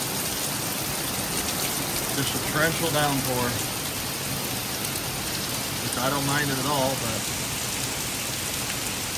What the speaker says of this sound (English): Just a torrential downpour.